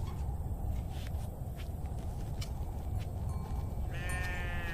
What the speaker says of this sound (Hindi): अरे दादी साठ भेड़े हैं हमारे पास